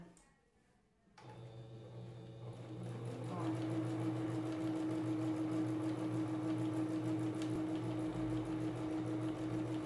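Sewing machine stitching fabric for an appliqué rug with an under-the-sea design, starting after a quiet second and settling into a steady, continuous mechanical hum with a fast ticking rhythm, close and moderately loud.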